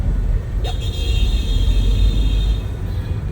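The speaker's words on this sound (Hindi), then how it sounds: "अभी ट्रैफिक ही बहुत है।" Heavy road traffic in Bandra East, Mumbai: a steady rumble of vehicles close by, with a brief horn toot near the start and a sustained tonal honk running through the middle.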